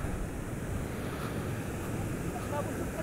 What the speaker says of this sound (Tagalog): Ganito talaga kalakas yung alon dito.